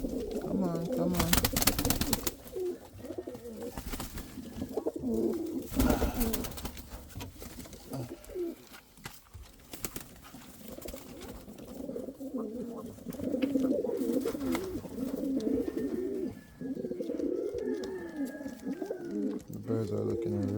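Indian Fantail pigeons coo steadily in a breeding loft, a low rolling murmur from several birds close by, with someone talking over them and a few handling clatters and rustles.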